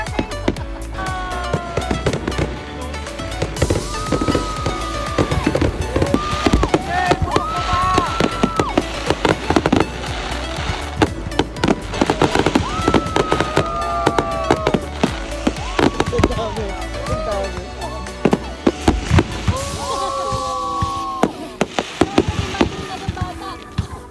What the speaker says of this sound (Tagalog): Iyon, ay napakaganda at napakahaba ng fireworks na iyon.